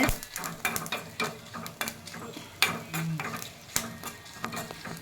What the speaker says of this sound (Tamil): அந்த பூவை போட்டு நல்லா வறுத்துக்கணும் அது நல்லா கருப்பாக ஆகிற அளவுக்கு நம்ம வறுத்துக்கணும்